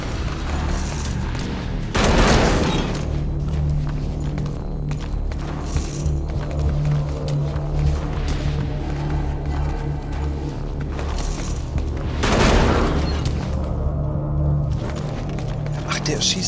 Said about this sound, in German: Der schießt hier überall die Patienten.